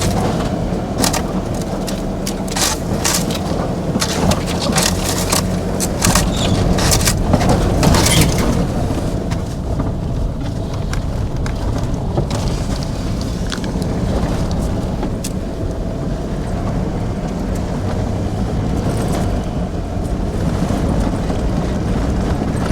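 A 4WD vehicle driving a corrugated sandy bush track at Murchison Station near Kalbarri, Western Australia, with a steady loud engine and cabin drone and rhythmic rattling and thumping bursts from the corrugations throughout.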